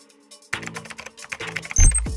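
Keys clatter in a quick run of clicks on a computer keyboard as an email address is entered, ending in a firmer thump like a final key press.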